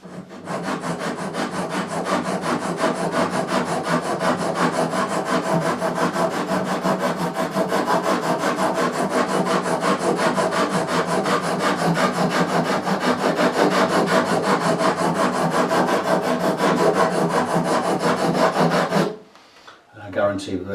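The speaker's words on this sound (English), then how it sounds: "These are really sharp now because I've hit it with the file." A metal file rasps across the frets of an Epiphone AJ220 acoustic guitar with a bent neck, leveling them in steady, continuous strokes, loud and close for about nineteen seconds before stopping abruptly.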